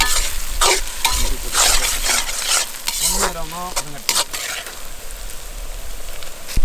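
Onions fry with ginger garlic paste in a pan for egg chukka, a steady loud sizzle broken by repeated scraping stirs of a spoon against the pan.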